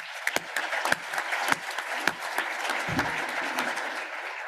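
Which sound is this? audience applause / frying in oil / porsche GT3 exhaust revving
audience applause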